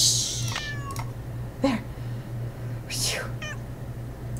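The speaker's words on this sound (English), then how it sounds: "Be quiet, cat." Cat meowing in the Nancy Drew game Secret of the Old Clock: several short, plaintive meows and a caterwaul, with a steady low hum beneath and a person shushing briefly.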